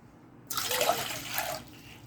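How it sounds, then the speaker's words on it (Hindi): Water for Peshawari kahwa splashes steadily into a pan from close range for about a second and a half, a soft gushing pour that stops abruptly, with no voices. "पेशावरी कहवा बनाने के लिए हम 2 कप पानी लेंगे।"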